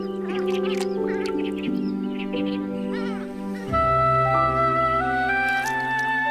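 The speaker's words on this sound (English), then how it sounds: "in the marshes, the most eye-catching are the purple swamp hens" Several purple swamp hens call close by in the marshes of Chilika, with honking, squawking cries that overlap and shift in pitch, one after another.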